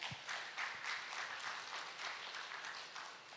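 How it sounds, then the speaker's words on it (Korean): Conference audience at a smart city event claps after a speaker, a soft, fairly distant patter of many hands with slight swells, steady throughout with no talking. "박수 부탁드리겠습니다"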